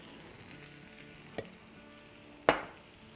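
Ghee hits hot cooking masoor dal with two sharp sizzling bursts, a small one and then a louder crackle that hisses and decays, heard close with no talk.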